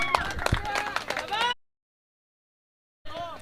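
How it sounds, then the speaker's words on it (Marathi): An audience at a local cricket match claps and cheers for a batsman, a short noisy burst of applause and crowd voices that cuts to silence and then resumes. "बॅटिंग आवडली असेल ना तर या वाघासाठी एकदा जोरदार टाळ्या होऊन जाऊ द्या"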